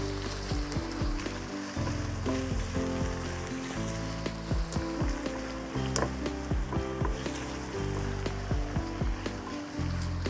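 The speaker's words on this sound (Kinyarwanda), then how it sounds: "noneho tubikarange" Potatoes and carrots sizzle in a frying pan with onion, a dense, continuous crackle and spatter punctuated by sharp pops and clinks, close and fairly quiet, with no talking.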